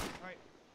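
A single gunshot in the video game ArmA 3, a short sharp crack with a quick decaying tail, brief and fairly faint.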